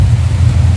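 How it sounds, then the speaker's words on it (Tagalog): Heavy rain pours down outdoors while people shelter during a charity outing, a loud dense rumbling wash with strong low noise and no talk. "Medyo malakas yung ulan"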